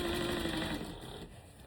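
An industrial sewing machine back-stitching fabric for a six-panel skirt, a steady fast mechanical whir running alone and fading slightly toward the end.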